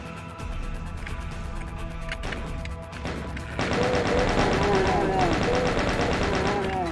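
Pistol shots from the video game Doom crack repeatedly against a dense, continuous game soundscape, getting louder and busier partway through.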